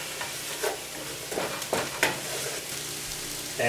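Beef stroganoff mixture sizzles softly in a pan, with scattered scraping stir strokes rising over a steady low frying hiss, close and fairly quiet.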